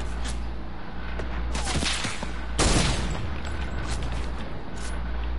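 Gunfire from a sniper rifle in a video game, a few sharp reports over a steady game background, with one loud, close blast near the middle standing out from fainter shots.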